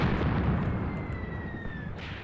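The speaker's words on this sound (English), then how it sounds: "There we go. Beautiful bombardment." Artillery bombardment in the WW2 war game Graviteam Tactics: Volkhov Front, a continuous rumble of distant explosions blending into a dense, low roar with a faint whistle overhead.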